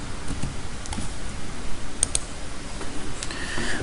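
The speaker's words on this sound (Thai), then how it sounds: "แล้วพิมพ์ใส่คำว่า Notebook LM" Sparse, light clicks of a computer keyboard tap out a short search entry, a few distinct keystrokes scattered over a faint background hiss.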